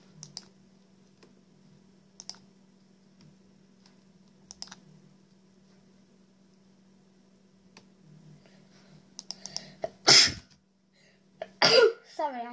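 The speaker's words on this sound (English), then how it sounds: "Sorry, I just have the sneezes today." Two sharp sneezes burst out near the end after a stretch of faint keyboard clicks and a low steady hum, loud and close to the microphone.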